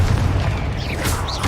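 A Confringo blasting spell explodes in Hogwarts Legacy, a deep continuous boom and rumble with a few thin whooshing magical swirls layered above, loud and close throughout.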